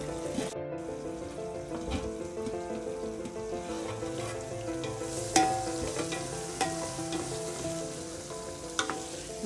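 Ingredients for a vegetarian fish curry cook in a covered pan, a steady soft sizzle with a low hum underneath and a few sharp clicks and taps.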